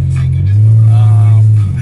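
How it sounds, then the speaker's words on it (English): A loud car engine droning steadily while driving, deep and close, with a slight swell in the middle and a voice briefly over it. "My car is loud, y'all. I know my car is real loud."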